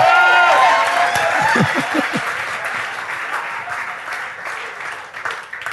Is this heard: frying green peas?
no